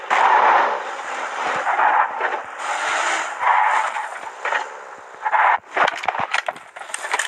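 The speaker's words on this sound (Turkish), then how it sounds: "Şu gördüğünüz AMR silahı 4 mermide patlattı arkadaşlar." The AMR rifle in the PUBG video game fires at vehicles, heard as loud, dense gunfire and explosive blasts over a steady roar of game noise, ending in a burst of sharp cracking impacts.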